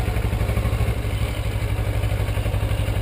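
Motorcycle engine running steadily up close as the rider gives a little gas to pull away, a rhythmic low throb with mild clatter and no voices.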